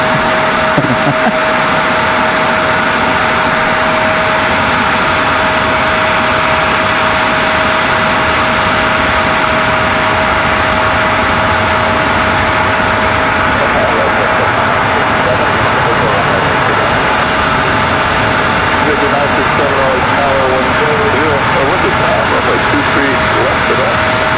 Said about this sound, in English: They've yet to come get this E175.